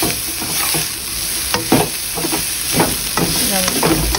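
Broccoli fries in a pan with a steady sizzle, while a spoon stirs and scrapes through it in irregular bursts, sounding close and fairly loud.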